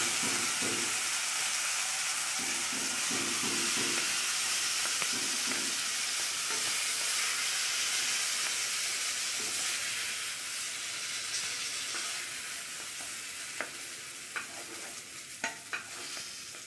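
Potato slices coated in gram flour batter sizzle steadily in hot oil in a pan, a loud continuous frying hiss with occasional stirring clinks and scrapes toward the end.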